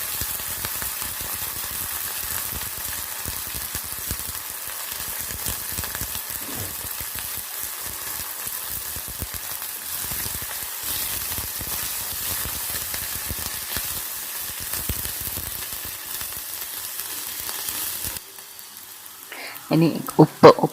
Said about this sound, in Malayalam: ഇനി അതിലേക്ക് ഈ പൂവിടുക, നന്നായിട്ടൊന്ന് ഇളക്കാം.